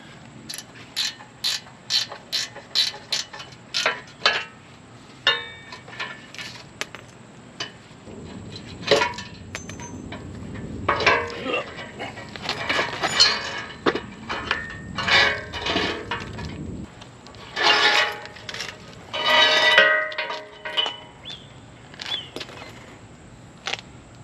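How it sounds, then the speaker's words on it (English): Ratchet clicking as bolts come off a 60 mm winch on a rusty Jeep, with quick bursts of close, sharp pawl clicks separated by pauses, plus clanks of metal being handled. "And now we'll take off the winch"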